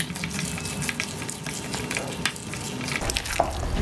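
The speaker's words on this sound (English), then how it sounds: "Stir that in a little bit." Raisins and chopped walnuts being stirred into thick mango bread batter in a bowl, a soft, wet, continuous scraping and squelching at close range.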